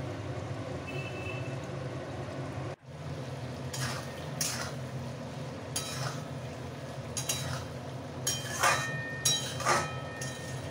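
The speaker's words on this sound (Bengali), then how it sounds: "এইভাবেই নাড়িয়ে আমি আস্তে আস্তে পুরো শুকনো শুকনো করে ফেলবো।" Potato and drumstick curry being stirred in a pan, with a low background hum and several distinct scraping strokes of a spoon against the pan in the second half, close and fairly quiet, no talk.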